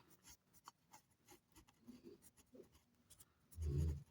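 Pen scratching out numbers on paper during a third-grade maths lesson, soft rasping strokes in short bursts, with a louder rub near the end.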